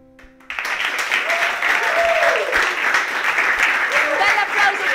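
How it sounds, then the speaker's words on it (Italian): Applause for Comacose bursts in after a short lull, a dense, loud wash of crowd clapping that holds steady to the end, with cheering voices rising through it. "Un bel applauso per il Comacose."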